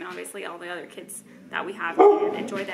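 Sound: dogs barking

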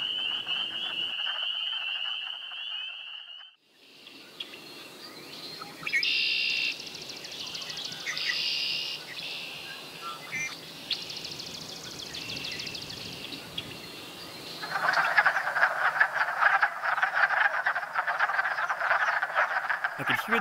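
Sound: wood frogs calling in a breeding pool

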